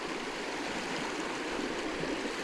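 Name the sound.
water flowing in a small creek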